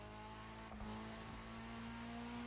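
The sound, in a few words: rally car engine driving in The Crew Motorfest video game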